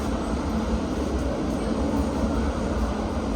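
Steady rumbling roar of a Barcelona metro train in motion, a dense continuous low rumble with hiss on top and no distinct clatter, heard from inside the carriage.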